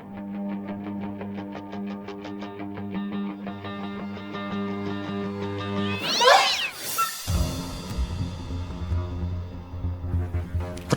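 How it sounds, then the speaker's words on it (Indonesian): A cat meows in a kitchen at night, one clear drawn-out call rising over steady music, with more faint mewing sounds after it. "Ternyata cuma kucing"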